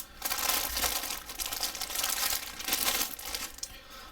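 Sealed plastic bags from a 1/72 Chengdu J-20 model kit are cut open and pulled apart, with close, continuous crinkling and crunching of plastic film in several bursts.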